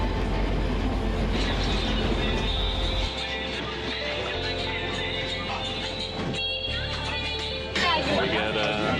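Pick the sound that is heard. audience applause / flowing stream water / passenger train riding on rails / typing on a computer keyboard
passenger train riding on rails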